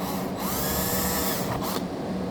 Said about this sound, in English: So the hole's a little bit too small to fit this T-nut through it. So you have to drill it out.